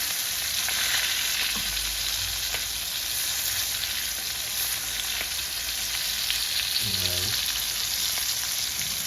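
Fish fries in a pan with a constant, close, bright crackling hiss that runs unbroken throughout, with a brief low tonal blip near the end.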